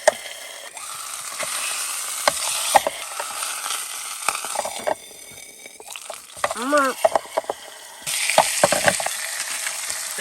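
Steak sizzling and frying in a pan inside a camper SUV, a steady crackling hiss with scraping and clinking of utensils, and occasional speech in the background.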